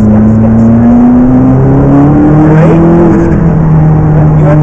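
A McLaren 650S sports car accelerates hard on a race track, its loud engine note climbing steadily through the revs over tyre and wind noise, with no break in the sound.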